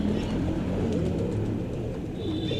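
Performer pigeons cooing in a large breeding loft, with soft, low, throaty coos overlapping continuously at close range and a faint chirp near the end.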